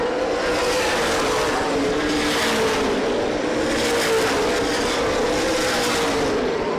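Stock cars race at Winchester Speedway during a CRA Super Series 100, a loud, continuous roar of several engines that swells and fades as the pack sweeps down the backstretch, with no voices.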